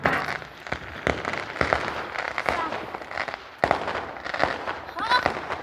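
Bonfire night fireworks bursting outdoors: a string of sharp, loud bangs and crackles at irregular intervals, with people talking between and over the explosions.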